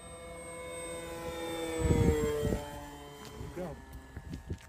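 Engine of a PA-28T airplane on its maiden flight, a droning tone that sweeps downward in pitch as it passes, with wind buffeting and people talking over it.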